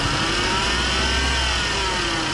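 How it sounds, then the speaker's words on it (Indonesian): Worn bearing in the air-conditioning compressor of a 2014 Chevrolet Spin LTZ with a manual petrol engine, heard as a steady, loud mechanical whine and rumble over the running engine. "Ini bearing atau lahar di kompresor AC."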